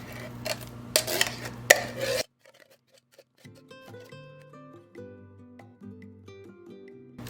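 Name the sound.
placing the second can of apple pie filling into a dish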